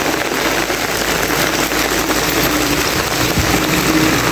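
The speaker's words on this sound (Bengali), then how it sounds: "প্রচুর বৃষ্টি শুরু হয়ে গেছে, এই যে রাস্তা দেয়া পানির ঢল যাইতেছে" Heavy rain pours down with runoff water streaming along a flooded road, a dense steady roar of drops and rushing water filling the scene at close range without a break.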